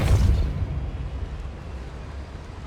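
A Depulso force spell cast in the Hogwarts Legacy video game: a single deep, booming blast at the start that decays into a low rumbling tail, with no speech.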